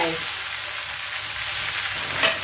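Rice vermicelli noodles dropped into a hot, smoking wok give off a steady broadband sizzle that holds at an even level, with a faint brighter hiss near the end; no one speaks.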